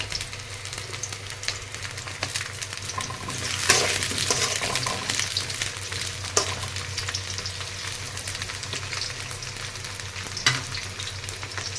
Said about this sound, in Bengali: পটলগুলোকে আমি খুব সুন্দর করে ভেজে নেব।